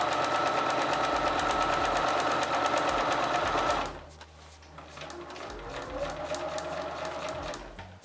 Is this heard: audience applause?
no